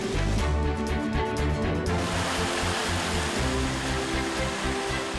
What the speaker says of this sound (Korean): 어딜 가도 계곡 물소리가 들리는 강천산